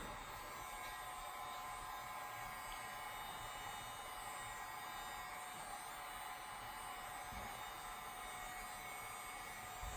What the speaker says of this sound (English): And this heat gun gets really hot